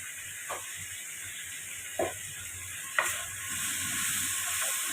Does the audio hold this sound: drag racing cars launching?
no